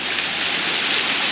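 A waterfall in Megrelia, Georgia roars as a steady, dense rush of falling water, close and loud without pause, with no voices over it.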